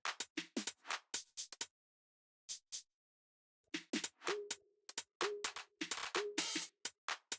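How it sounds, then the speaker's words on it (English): A soft, shaker-like groove hi-hat from an electronic track plays in short, dry bursts of noise, pausing for a beat before resuming in a busier pattern with a faint low tone underneath, heard alone. "in here we have a little groove hat. It's more like a shaker."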